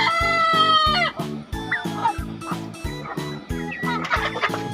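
Native backyard hens cluck and call in a farmyard, with a drawn-out crowing call at the start over a repeating low thumping rhythm.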